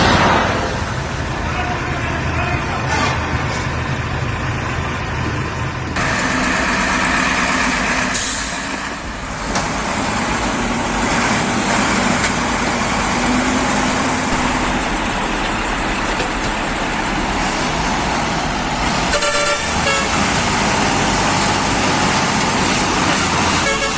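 Kamaz truck grinding through thick mud, a loud, continuous heavy diesel roar with strained revving and occasional hissing bursts, and voices faintly present underneath.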